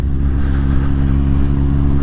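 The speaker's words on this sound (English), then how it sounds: "There's a nice car now, the old Lotus Elise." A Lotus Elise car's engine drones steadily and loudly, heard alongside the rumble of a Suzuki GSX-S750 motorcycle and wind, with a constant low hum and no distinct approach or fade.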